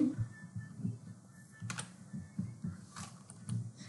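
A computer keyboard being typed on while an email is written, giving irregular clicks and key taps close to the microphone, with a few louder strokes, over faint background hum.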